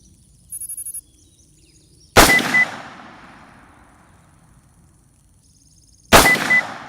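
Two loud, close rifle shots about four seconds apart, each a sharp crack with a long fading echo down the range, the rifle fitted with a Conquest V4 scope; a short electronic beeping comes before the first shot.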